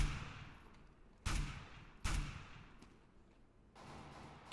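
Gunfire in CS:GO: a few sharp, loud shots ring out at irregular intervals, each followed by a decaying echo tail, with a third burst near the end.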